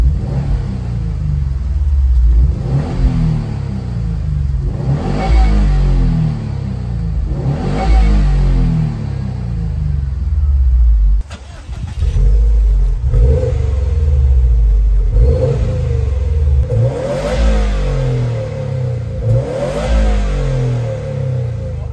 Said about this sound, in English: I love the way that this exhaust, this motor, the blow-off valve all sound.